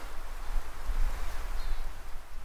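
Wind gusts on a mountain hiking trail along the GR54 Tour des Écrins near a forest: a steady, low, rumbling buffet against the microphone that swells and eases, with no voices.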